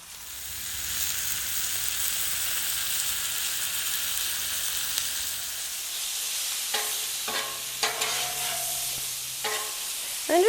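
Lobster pieces, garlic and butter cook on a Blackstone griddle with Tuscan herb seasoning, a soft steady sizzle that later gives way to a few brief clattering stirs and scrapes.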